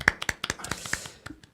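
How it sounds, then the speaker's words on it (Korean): A few scattered hand claps from a small audience at a district council candidate debate in Gwanak, a sparse burst of applause that thins out and fades within about a second and a half. "박수 부탁드립니다"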